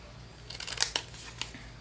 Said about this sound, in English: So again, go on that piece and trim on an angle.